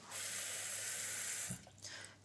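Tap water runs steadily into a pot for small potatoes in a home kitchen, a close, continuous rushing stream that cuts off abruptly after about a second and a half, followed by faint handling clatter.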